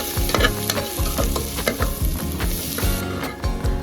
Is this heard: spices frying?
yes